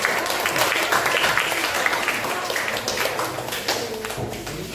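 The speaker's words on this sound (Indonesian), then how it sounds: "Berikan aplaus untuk kelompok." A classroom audience applauds a student group after its presentation, steady clapping that carries for several seconds from many hands close by, with some voices mixed in.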